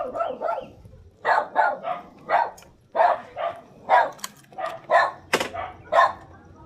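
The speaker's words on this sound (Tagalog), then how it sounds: "Oh, aso may aso." A dog barks repeatedly outside a house on a door-to-door ride, a rapid series of sharp, fairly close barks in uneven bursts, with a few whimpering yips mixed in.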